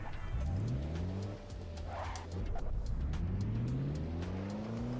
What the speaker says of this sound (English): This is Assetto Corsa.